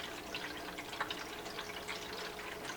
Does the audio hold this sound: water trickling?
yes